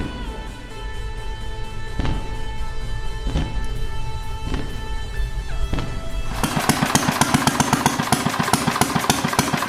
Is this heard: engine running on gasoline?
yes